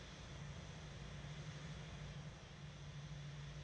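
A Boeing 787 airliner in a flight video game gives off a steady, continuous engine drone with a low hum while taxiing, holding even and moderately loud throughout with no talk.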